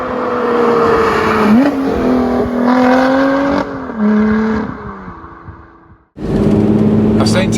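A Lotus sports car engine pulls hard under acceleration from the passenger seat, a loud rising whine climbing through gear changes, briefly dropping and cutting out before surging back, with people talking inside the cabin.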